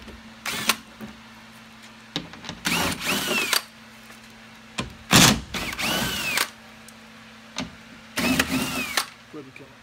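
Power tool spinning out the 10mm bolts on a Ram 1500 door carrier plate, in several short bursts of a few seconds each with pauses between them, close by and loud, with a person talking in the gaps.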